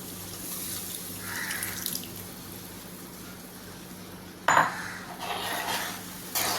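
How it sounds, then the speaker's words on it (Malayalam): Diluted, thinned yogurt poured into a raw mango curry: a soft, watery pour with light splashing and a few clinks of a pot or utensil, fairly quiet and with no talking. "ഇനി ഇതിലേക്ക് തൈര് ഞാൻ ഒന്ന് ശകല വെള്ളം ചേർത്ത് ലൂസാക്കിയിട്ടുണ്ട് ഇതൊന്ന്"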